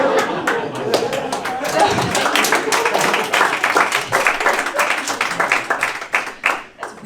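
Audience at a comedy show in the Unikum Sky Bar, Salzburg, claps steadily and fairly loudly for about seven seconds, with scattered chatter beneath, before the applause thins out.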